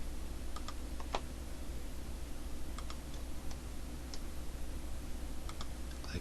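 A computer mouse clicking a handful of times at irregular intervals, sharp and close, over a steady low hum and with no talking.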